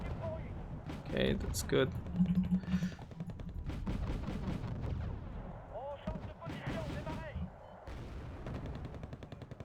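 Units in Wargame: Red Dragon trading fire, with rapid gunfire bursts and artillery booms rolling on under a voice as he talks throughout.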